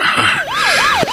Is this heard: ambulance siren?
yes